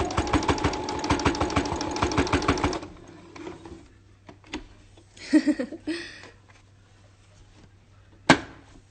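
Sewing machine stitching a fabric face mask, running in a fast, steady mechanical chatter for about three seconds, then stopping, followed by soft handling clicks and rustles of the cloth and one sharp click near the end.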